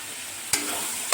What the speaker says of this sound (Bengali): এই যেখানে চিকেনের মশলাটা কষানো হচ্ছে